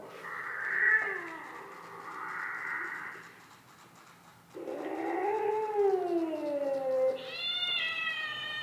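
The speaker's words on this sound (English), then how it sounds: "that seemed like a pretty pissy cat to me" A cat-like interactive object meows several times, drawn-out, whiny and loud at close range, with no talking.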